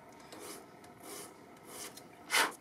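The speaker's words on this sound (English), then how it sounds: "tune that edge on the 120 grit sandpaper" A wooden soundboard brace edge is rubbed by hand on 120 grit sandpaper, giving a few soft, close scraping strokes that end in one louder, brighter rasp.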